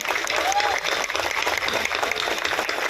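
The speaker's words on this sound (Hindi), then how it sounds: "तालियों की जो गूंज है बाहर तक सुनाई देनी चाहिए" A crowd applauds steadily at a health camp event, dense clapping filling the space from start to finish.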